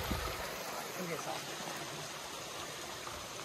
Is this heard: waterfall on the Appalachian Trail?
yes